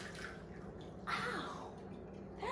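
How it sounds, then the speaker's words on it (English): Water poured out of a Tommee Tippee baby bottle warmer into a sink at night, a soft splashing pour that swells briefly and trails off into faint dripping, with no talk. "Turn that off, throw the water out."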